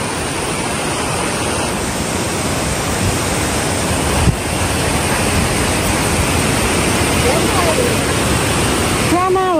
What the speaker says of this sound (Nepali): कति ठुलो भयो त्यो खोला